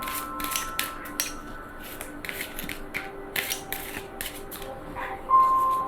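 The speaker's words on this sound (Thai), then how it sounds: "เดี๋ยวเรามาดูกันสับไพ่ก่อน สับไพ่ก่อน" Oracle cards are shuffled by hand in a series of quick crisp riffling bursts with short pauses between, fairly close and quiet, with no talking.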